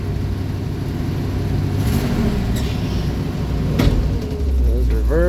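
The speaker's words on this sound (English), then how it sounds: "So you pump it a few times, pull the choke out, fire it up" International Harvester Travelall engine cranked and started cold on choke, settling into a steady, rough idle with a brief louder surge near the end; the motor runs continuously and fairly close.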